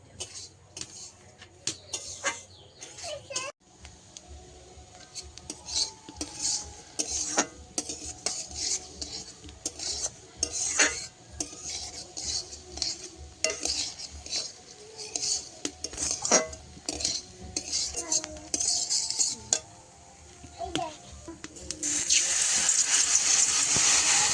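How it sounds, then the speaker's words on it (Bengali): Dal frying in hot oil in a wok, stirred with a metal utensil, makes repeated scraping and clinking strokes over a low sizzle, growing into a louder hiss near the end. "তো গরম কড়াইতে তেলও গরম হয়ে গেছিল, সেই সুযোগে দিয়ে দিয়েছি একটু ডালটা।"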